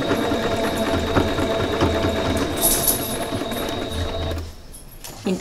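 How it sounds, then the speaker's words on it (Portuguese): A sewing machine stitches a towel-fabric apron, giving a steady, close, fast mechanical whir that runs almost continuously and stops abruptly near the end. "aqui eu vou começar a costurar, ó. E vou fazer o retrocesso."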